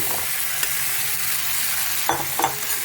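Boiled potatoes hit hot spices in a pan for a Bengali peas-and-potato curry, giving a steady loud sizzle with a few sharp stirring scrapes near the end.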